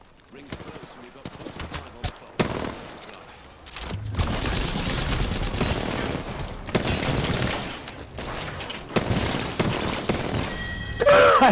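Rapid bursts of gunfire and impact crashes from the Apex Legends video game, loud and dense, running almost continuously through the stretch with short pauses, while a player talks over the action.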